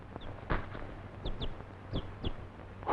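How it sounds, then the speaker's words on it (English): A chicken clucks in short, separated bursts, about five or six quick calls spread over a few seconds, fairly close but soft against a quiet background. "A chicken?"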